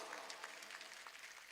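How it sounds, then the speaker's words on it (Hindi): Audience clapping at an Urdu mushaira poetry gathering in Mumbra, a dense steady patter of many hands that holds even throughout, heard at moderate distance with no talk over it. "मुझे एक बार पीछे तक ताली बजा करके हुक्म दें"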